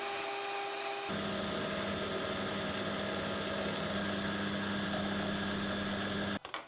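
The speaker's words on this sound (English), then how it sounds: "I want to drill and tap this with my M8 thread" A steady, whining machine drone runs almost without a break, like a drill press drilling and tapping an M8 thread in metal, then cuts off abruptly near the end.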